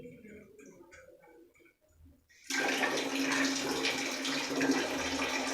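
Water gushes from a repaired instant water heater once it is switched back on, a loud, steady broadband rush that starts abruptly after quieter hiss and faint knocking and then continues unbroken.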